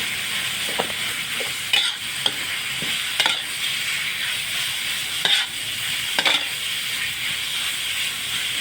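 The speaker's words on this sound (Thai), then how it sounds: "ใส่หมูสับลงไปผัดไปเลยครับ ขยี้หมูสับ ให้แตกออกจากกันนะครับ" Minced pork stir-fried in a pan with garlic, a steady loud sizzle with intermittent scraping strokes of the spatula at irregular intervals, no talking.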